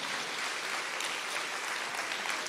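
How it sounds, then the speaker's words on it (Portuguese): A church congregation claps continuously in a dense, even wash of applause that holds steady and fairly loud throughout, with no voices standing out. "Pode aplaudir mesmo, pode aplaudir, aplauda mesmo, muito, muito"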